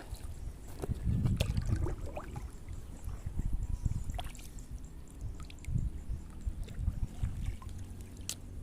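Small rowboat paddled on calm water among lotus plants, with soft irregular splashes and dips of the paddle, gentle knocks against the hull and quiet trickling, all faint and close.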